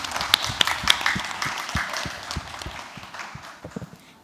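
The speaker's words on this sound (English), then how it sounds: "Can we give him a round of applause before he talks?" Scattered, uneven clapping from a small crowd, sharp individual claps popping out over a thin patter that tapers off toward the end.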